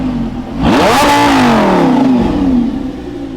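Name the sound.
Lamborghini engine revving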